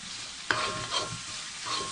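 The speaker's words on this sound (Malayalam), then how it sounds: "നന്നായിട്ടത് മിക്സ് ചെയ്ത് കൊടുക്കാം." Chicken fried rice with soy sauce and chili sauce is stirred in a hot pan. A sharp scrape of the spoon rides over a soft, continuous sizzle.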